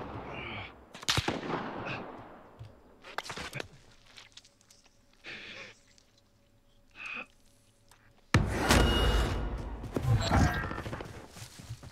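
Sniper rifle shots ring out in a Call of Duty Warzone match, sharp loud cracks with echoing tails, followed by footsteps and a dense burst of gunfire and battle noise near the end.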